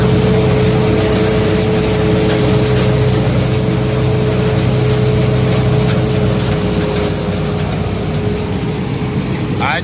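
A big tractor, a John Deere or New Holland fitted with a thresher, idles nearby. Its loud, steady, even drone continues unbroken for the whole stretch.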